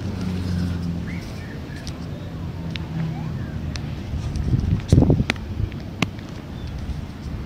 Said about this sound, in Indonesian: Sekarang saya duduk di sini ditemani oleh hembusan angin dan mendung.